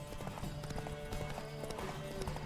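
A horse gallops in The Witcher 3 video game, rhythmic hoof clip-clops beating steadily and close throughout, over faint tonal game background.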